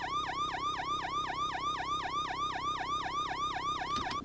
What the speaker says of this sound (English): if I go to the Sunburst, Police RS version, this is a pretty awesome little siren